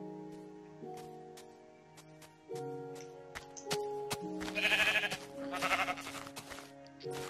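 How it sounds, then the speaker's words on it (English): Sheep bleat several times in a video game, repeated calls layered over a steady tonal game soundtrack, growing louder and denser toward the middle before easing off. "Hey, a sheep."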